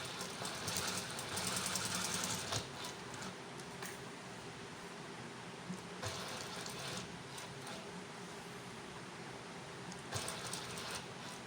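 A sewing machine runs a straight seam on a kameez, its motor humming with a rapid mechanical chatter in several bursts, the stitching loud at first then easing off and picking up again, with no talk.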